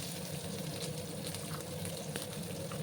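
Chopped onion and garlic fry in oil in a bitter gourd dish, giving a steady, low crackling sizzle throughout with no talking.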